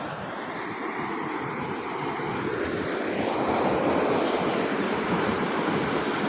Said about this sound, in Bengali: জল আছে, প্রচুর হাই স্পিডে যাচ্ছে জল, চলে যাচ্ছে একদম প্রচুর। আওয়াজটা শুনতে পাচ্ছ তোমরা, কি হারে আওয়াজটা করছে